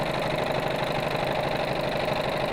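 Sewing machine running steadily with raised thread tension to gather fabric, a continuous close mechanical whir with no pauses.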